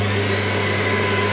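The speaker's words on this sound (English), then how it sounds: "And you toss the rubbish in. Okay. It gets sucked up the back." A roadside litter vacuum machine runs with a steady, loud motorized whine and broad suction roar, continuous throughout with no talk.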